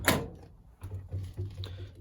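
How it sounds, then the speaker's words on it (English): The door of a Hoover Ecologic D6722 tumble dryer opens with a sharp click and clunk, followed by quieter low rattles and handling noises close by. "Door opens not quite the full way."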